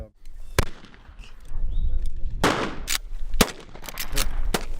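Sharp gunshots from a Western movie scene crack out several times, loud and close, over a rumbling background with faint voices in between.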